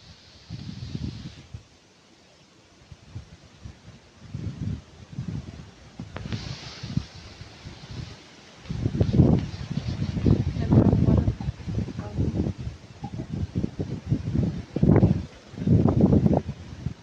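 Wind gusts rustle through leaves in waves, loud and close, with short quiet gaps between the bursts.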